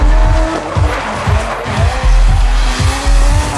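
A high-revving tuned car engine roars and pulses loudly through repeated throttle blips while tires squeal in a long drift in Tokyo.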